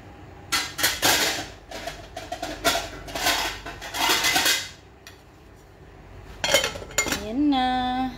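A metal cooking pot and its lid clank and clink in a kitchen in a series of sharp metallic knocks, ending with a ringing tone as the lid settles.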